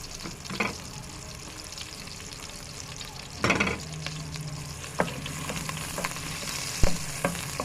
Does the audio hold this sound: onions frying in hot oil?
yes